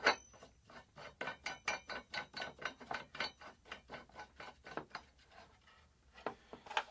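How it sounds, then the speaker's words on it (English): Part of a Joia Tubes musical instrument stand being screwed in by hand, a rapid series of close ratcheting clicks and scrapes in a steady rhythm that slows toward the end. "Screw that in."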